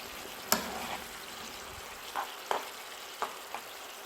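Eggplant shakshuka simmering in tomato sauce, a soft low bubbling sizzle punctuated by several sharp utensil clinks and scrapes as it is stirred, close and without talk.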